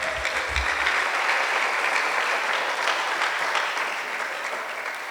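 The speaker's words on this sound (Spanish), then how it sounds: "Dele más fuerte esa ofrenda de palmas al Señor" A church congregation claps loudly and steadily as a sustained wash of applause that holds for the whole stretch and fades slightly near the end.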